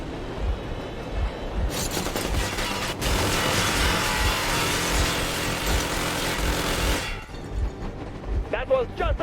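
A sustained burst of warning gunfire erupts in a post-apocalyptic shooter game, a dense roaring volley lasting several seconds over a low engine drone, with voices heard around it.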